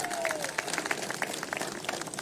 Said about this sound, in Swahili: Pigeni makofi jameni